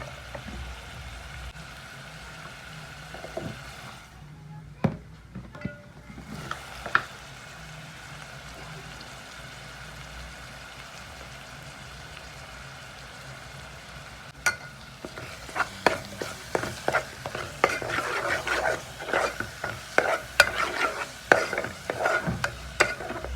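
Drumstick pieces cooking in a pan with a turmeric-seasoned paste, stirred now and then, the sizzle and scraping growing busier and louder in the last stretch after a brief hush midway.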